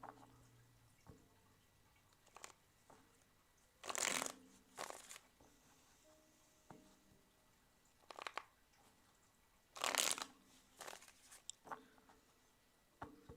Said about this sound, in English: Focus on that and tell me when to stop shuffling.